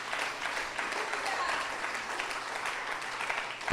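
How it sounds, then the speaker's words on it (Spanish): A church congregation applauds steadily for nearly four seconds, a dense, even wash of clapping with no pauses. "Denle un aplauso al Señor."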